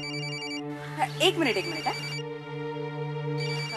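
A telephone rings steadily with a bright electronic bell tone, and a person briefly speaks over it in the middle before the ringing carries on.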